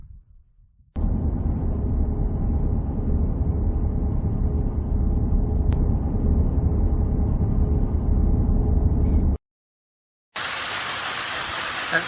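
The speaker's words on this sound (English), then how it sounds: "That sound is hail." Steady dense patter of hail drumming on a vehicle roof, loud and continuous, cutting off abruptly, then a brief harsher burst after a short gap.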